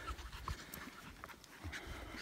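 Dogs pant quickly and rhythmically while out on a hike among red rock desert in Valley of Fire State Park, Nevada, quiet and close, with soft rustling around them.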